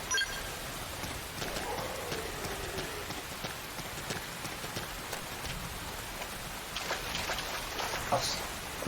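Steady rain patters across the scene in the Xenoblade Chronicles X video game, a constant wash of falling drops with scattered light ticks and faint background game sounds, and no voices.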